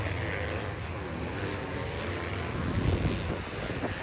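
Two-stroke 250cc dirt bikes race on a muddy motocross track in a pro-am event, their engines a loud, continuous snarling roar that swells briefly near the middle, with no voices.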